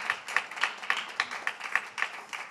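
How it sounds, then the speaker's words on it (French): Audience applause at a French foundation event as three guests are called up to join the host, rhythmic clapping with steady repeated claps, moderately faint and alone. "On les applaudit."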